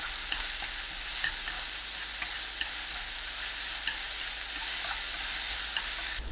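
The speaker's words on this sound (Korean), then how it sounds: "청양고추 넣고 40초 볶아주세요" Cheongyang chili peppers sizzle steadily as they are stir-fried in a pan, a constant close frying hiss broken by faint, irregular ticks of a utensil against the pan.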